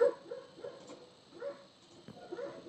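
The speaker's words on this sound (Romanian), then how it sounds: "Scuze pentru câini pe fundal" Dogs yipping and barking faintly in the background, several short, muffled whimpering barks spread across a few seconds with no talk over them.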